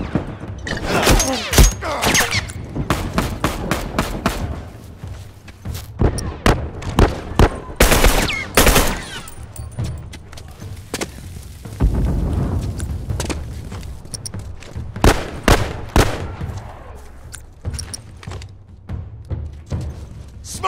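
Turret fire in a multiplayer match of The Last of Us Remastered hammers out in loud, rapid automatic bursts, joined by scattered single shots and thuds across a tense firefight.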